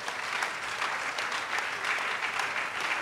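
A church congregation at a Sunday morning service applauds to welcome visitors, with steady, even clapping from many hands filling the room and no voices above it.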